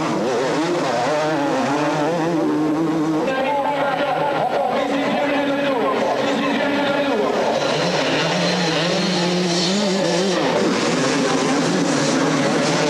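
Honda 250cc motocross bikes race at a 1998 French Grand Prix, their engines whining and rising and falling in pitch as they rev through gears, loud and continuous under a commentator's voice.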